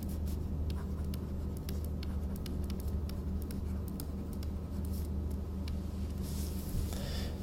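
Chalk or marker taps and scratches on a board during a physics lecture, soft irregular strokes over a steady room hum, with no talking.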